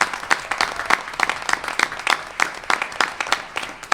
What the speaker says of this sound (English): let's give him a round of applause for the work he did.